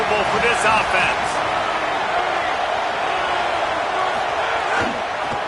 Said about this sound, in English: This crowd trying to make life miserable for this offense.